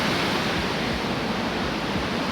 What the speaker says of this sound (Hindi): Wow, look at the flow of water.